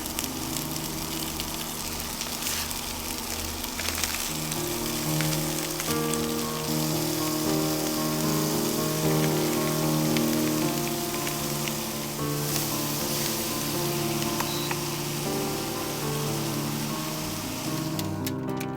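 Steady, crackling sizzle of asparagus frying in a pan, a continuous close hiss with faint pops running throughout.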